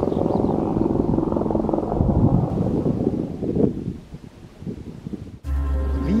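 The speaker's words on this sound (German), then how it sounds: "Und schon wieder ein Hubschrauber." A helicopter passes overhead with a low rumbling drone mixed with gusty wind noise, fading over several seconds before a brief different sound cuts in at the end.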